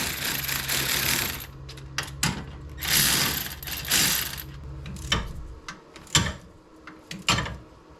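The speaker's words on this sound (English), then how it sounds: "then we're gonna send it home with the electric ratchet." Electric ratchet whirs in short bursts while tightening wheel hub bolts on a Nissan 370Z, close and loud, interspersed with metallic clicks and tool handling between runs.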